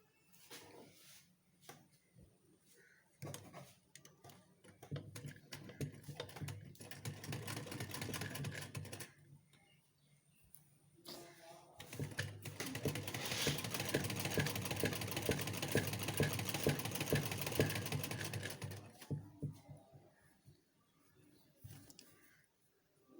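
Sewing machine stitching a baby frock, a faint mechanical whirring run for a few seconds, a pause, then a longer steady stitching run with fine rapid clatter, ending in quiet.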